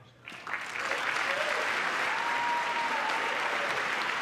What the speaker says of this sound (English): having to stand up and clap after every sentence